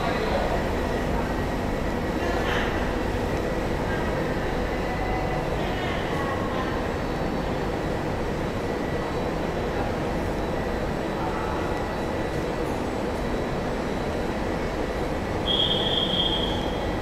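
An ICN night train from Catania to Milan runs with a steady low rumble and faint rail noise, plus a brief high squeal of wheels near the end, with no speech heard.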